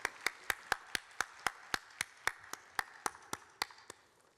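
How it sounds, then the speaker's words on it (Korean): A congregation claps in a steady, unison rhythm of about fifteen sharp claps that fade slightly toward the end. "우리 샬롬과 함께 하나님께 영광의 박수 올려드리겠습니다"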